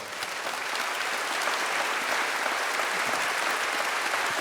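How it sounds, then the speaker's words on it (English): Sustained applause from an audience fills the room, steady and fairly loud throughout with no voices over it. "Yeah, you can applaud."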